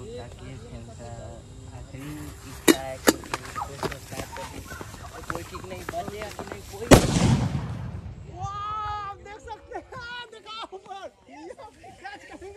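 A digital bomb firecracker goes off under a metal lota with a single sharp blast and a decaying roar midway, while people talk over outdoor insect and bird chatter throughout.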